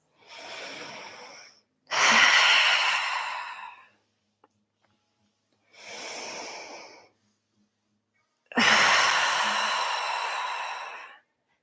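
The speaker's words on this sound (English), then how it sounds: "Let's take some big inhales and exhales." Two slow, deep breath cycles during a knee and hip workout, each a long soft inhale followed by a louder, fuller exhale through the mouth, close and clear with silence between.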